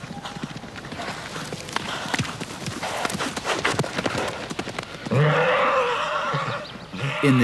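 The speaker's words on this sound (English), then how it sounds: "In this well-tended paddock at the Vogelsanghof estate on the Lower Rhine, the Trakehner stallion Mackensen gets his exercise" A Trakehner stallion in a well-tended paddock on the Lower Rhine, hooves clip-clopping in a quick running rhythm, then loud, drawn-out neighs near the end.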